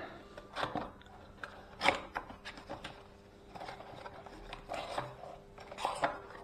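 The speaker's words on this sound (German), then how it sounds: "So, da sind die guten Stücke mal auspacken." New motorcycle shock absorbers are unpacked, giving quiet, intermittent crinkling, rustling and snipping bursts of packaging material close by, with soft knocks between them.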